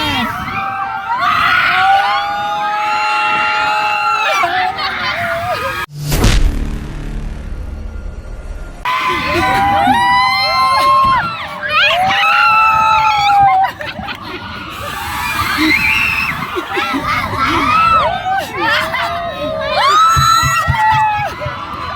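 Riders on an amusement park ride scream and shriek in loud, overlapping bursts, with a brief rumbling whoosh of the ride midway, then waves of excited yelling and cheering continue close by.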